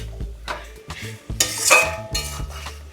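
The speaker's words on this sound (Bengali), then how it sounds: "এবারে আলুগুলো দেওয়া হচ্ছে দিয়ে ভালো করে কষানো হবে" Potato pieces are stirred and fried in a pot of Bengali mutton curry with mustard oil and spices, the metal spoon scraping and clanking against the pot in uneven strokes over a soft sizzle.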